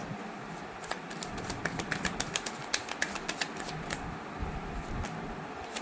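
Tarot cards being shuffled by hand, a quick run of soft, close riffling clicks and flutters that peaks midway then trails off over faint room noise.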